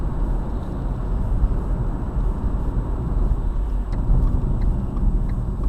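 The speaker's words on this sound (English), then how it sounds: "So internally within the car you can hear the difference between the two road surfaces." Steady low road rumble and tyre noise heard from inside a moving car, a constant close drone with no talking.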